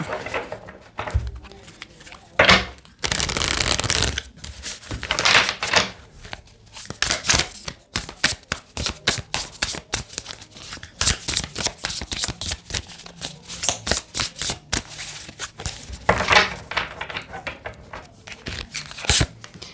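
Tarot cards shuffled by hand after one card flies loose, with brisk riffling bursts and papery flicks interspersed with someone speaking French.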